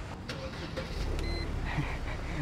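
A car engine idling smoothly with a steady low hum and faint mechanical ticks, close by with no talking.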